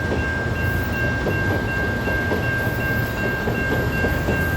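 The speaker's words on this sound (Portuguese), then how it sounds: "Esse trem está indo lá para a capital." A train departs for the capital with a constant loud rumble of wheels on rails, a faint rhythmic clatter and a steady high tone running through it.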